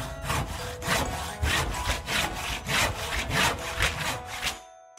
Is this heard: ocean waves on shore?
no